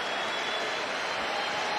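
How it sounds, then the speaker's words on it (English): Chelsea fans applaud Hakim Ziyech as he is substituted during a Super Cup football match against Villarreal, producing a steady, even wash of stadium clapping and crowd noise with no distinct voices. "So the Chelsea fans applauding Hakim Ziyech"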